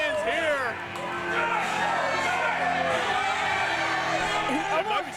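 Wrestling crowd cheering and hollering during a Chase Owens vs Ryloh King match, a broad roar of fans with whoops, heard under a commentator's continuous voice.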